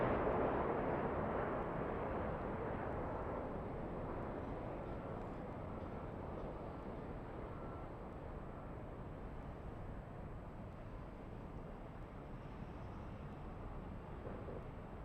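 Airliner on approach to runway 25 left at LAX, a steady broad roar of jet engines holding throughout, gradually easing slightly in loudness with no talk over it.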